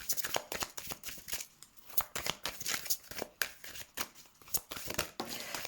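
Tarot cards being shuffled by hand for a reading, soft irregular riffling and slapping of the deck, close and fairly quiet, with no talk over it.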